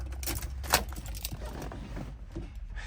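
Car keys for a 1970 Ford Torino Cobra SCJ jingle and clink close by in short bursts, one sharp jangle standing out, over a low background rumble.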